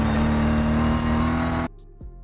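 A supercar engine in the mobile racing game Real Racing 3 holds a loud, steady high-pitched drone, then cuts off abruptly, leaving a brief faint whoosh.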